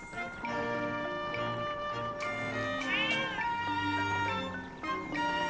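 Cat meows in The Legend of Zelda: Echoes of Wisdom, several short bright game-voice mews over a soft looping musical background, fairly loud and without speech.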